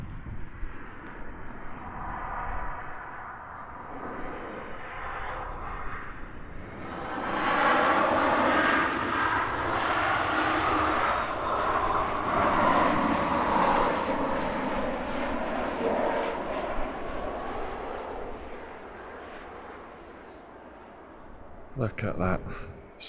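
A Ryanair airliner lands at Edinburgh Airport, its engine roar swelling from a steady drone to a loud, broad rush mid-clip before slowly easing away, with a voice talking over it at the start and end.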